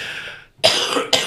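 A man coughs twice, close and loud, two harsh bursts in quick succession after a brief breathy sound.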